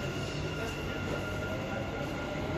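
A Dubai Metro train runs with a continuous smooth rolling rumble and a hiss of wheel and air noise, steady and close, as if heard from inside a moving carriage.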